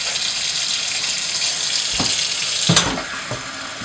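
Tap water runs steadily while black and white film is rinsed during home developing, a close continuous splashing stream with a few knocks and sloshes near the end.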